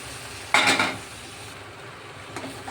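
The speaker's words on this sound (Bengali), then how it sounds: "ভালো করে মশলার সাথে মাটনটা আমি কষিয়ে দেব" Mutton being stir-fried with spices and chopped tomato in a pan, a close scraping stir and sizzle bursting up around the half-second mark, then settling into a softer steady sizzle with occasional utensil clinks.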